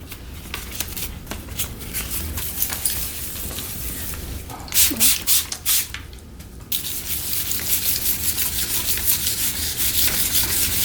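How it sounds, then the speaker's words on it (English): Wet hand sanding of a car headlight lens with 3000 grit sandpaper, steady close scratchy rubbing strokes in a fast back-and-forth rhythm, briefly pausing then resuming louder and continuous, with no talking. "Now we're gonna finalize it with 3000 grit sandpaper"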